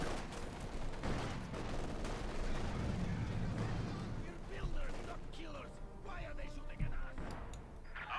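Battle sounds from the real-time strategy game Company of Heroes 2: a continuous din of gunfire, machine guns and artillery with scattered sharp bursts, under a commentator's steady talk.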